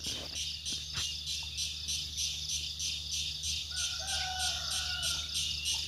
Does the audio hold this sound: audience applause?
no